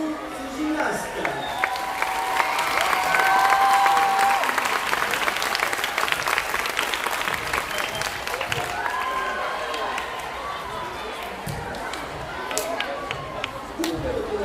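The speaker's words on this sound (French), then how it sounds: "On peut applaudir d'accord tous ces gymnastes" An audience applauds gymnasts at a youth gymnastics results ceremony, a long sustained burst of clapping with some cheering that swells early, then settles into steady applause with faint voices underneath.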